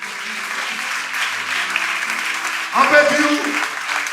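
A church congregation applauds together, a broad wash of clapping held under a preacher's speech, which swells briefly louder near the end.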